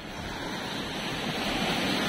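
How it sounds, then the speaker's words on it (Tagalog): Strong ocean waves surging against rocks by the open sea, a steady loud roar of broad surf with wind noise, continuous throughout without speech. "Grabe lakas ng alon yan"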